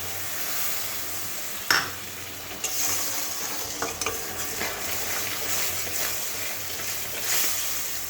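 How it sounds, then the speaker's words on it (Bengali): Spices sizzle steadily in a hot pan for potol kosha, a pointed gourd curry, with a continuous loud hiss and a few sharp clinks and scrapes from stirring. No one speaks. "মশলাটা ভালো করে ভাজা হোক"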